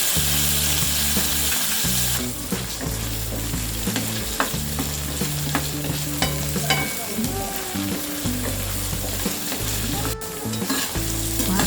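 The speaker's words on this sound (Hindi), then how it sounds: "250 ग्राम्स पनीर क्यूब्स हम फ्राई करेंगे" Paneer cubes sizzling and frying in a little oil in a pot, a loud continuous crackle with clinks and stirring scrapes from a spoon.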